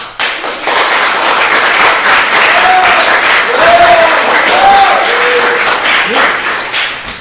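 A university debate audience bursts into applause for a minister, a loud, dense run of clapping that rises quickly, holds steady for several seconds, then tapers off.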